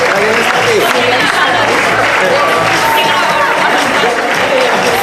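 Audience at a comic convention costume contest applauds cosplayers, a dense, loud wash of clapping and crowd noise filling the whole stretch with voices mixed in.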